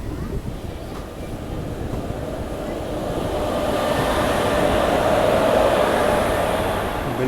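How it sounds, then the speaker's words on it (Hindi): A passenger train on the Pilibhit–Mailani route, a steady rumbling rail noise that swells gradually louder, with a faint voice in the background. "बिल्कुल ये भी सवारी गाड़ी है"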